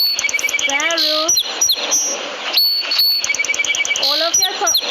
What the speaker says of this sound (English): All of you are familiar with the sound of sparrow?